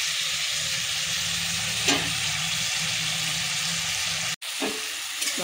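Tomato and onion frying in oil in a pan, a continuous loud sizzle with brief scraping stirs, cut off by a momentary gap near the end before the sizzling resumes.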